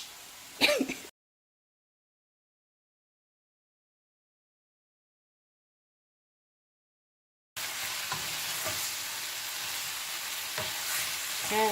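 Ground meat browns in a pan with a steady broadband sizzle and occasional stirring scrapes, briefly heard at the start, then silence, then returning continuously for the last several seconds.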